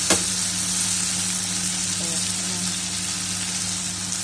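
Shrimp frying in a pan, a steady, close sizzle with a low background hum and a brief clatter at the start.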